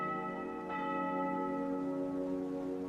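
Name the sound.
church bells ringing at the Basilica of Guadalupe in the morning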